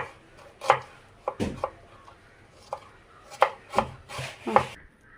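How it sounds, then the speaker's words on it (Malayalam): Onions sliced thinly for biryani with a knife on a cutting board: a series of close, crisp chops in irregular bursts, with quiet pauses between strokes and no voices. "അപ്പോൾ നമുക്ക് ഉള്ളി ചെറുതായിട്ട് അങ്ങനെ നീളത്തിൽ കുഞ്ഞു കുഞ്ഞുങ്ങനെ അരിയണം"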